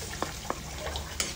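Onion and garlic sautéing in a pan for stir-fried squash shoots: a steady soft sizzle with two sharp spatula taps against the pan, heard alone over a short moment.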